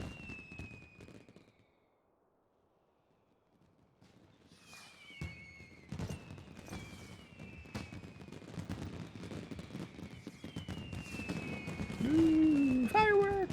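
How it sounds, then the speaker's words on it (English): Fireworks burst in a Final Fantasy XIV seasonal event, a run of sharp pops and crackles with whistling streaks, growing louder and denser toward the end over game music. "Ooh, fireworks!"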